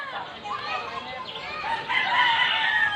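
Chicks peeping and cheeping in a busy group at a poultry and gamefowl yard, high chirps overlapping continuously with rooster and hen sounds nearby and voices talking in the background.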